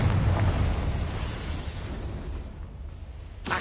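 A Confringo blasting curse from the Hogwarts Legacy video game, heard as a loud, sustained rumbling explosive burst that fades and ends with a brief crackling swish.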